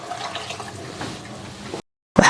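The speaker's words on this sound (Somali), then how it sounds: "waxaan ku darsanayaa biyo nus litir oo biyo ah." Half a litre of water pours into a cooking pot with a soft, steady splashing for under two seconds, followed by a brief silence and a short burst of sound.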